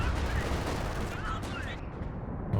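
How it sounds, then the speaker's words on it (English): Base artillery shells landing in a Company of Heroes 2 4v4 match, a dense continuous rumble of blasts and battlefield noise with faint voices mixed in. "Base artillery coming down somewhere"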